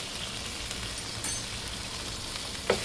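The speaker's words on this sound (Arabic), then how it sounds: "بصوا نص معلقة صغيرة كده من السكر وهنزل بيه على السمنة" A half teaspoon of sugar hits hot ghee in a pan with a crackling sizzle like light rain, steady and soft, with a couple of small clinks.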